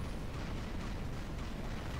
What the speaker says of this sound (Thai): ยิงได้แรงจัดมาก